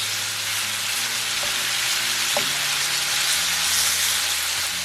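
Shrimp sauté steadily in hot oil with garlic and red pepper flakes, a constant loud sizzle and crackle filling the clip, with a faint utensil tap partway through and no talking.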